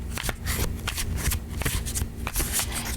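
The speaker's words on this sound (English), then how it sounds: "It glides really nice, the shuffle," New tarot cards being shuffled by hand, a steady crisp rustling and flicking close up, continuous for a few seconds with no talking.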